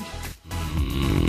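A Presa Canario snoring nearby, a low rasping rumble with a brief pause, then a heavier snoring breath building.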